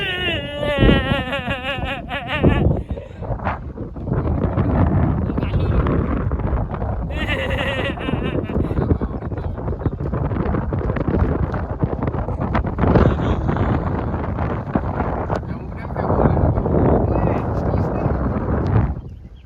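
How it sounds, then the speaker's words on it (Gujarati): Strong wind on the roof of a village water tank buffeting the microphone with loud, continuous roaring gusts, while people talk and shout over it nearby. "અમે બહુ પવન આવે બહુ પવન આવે"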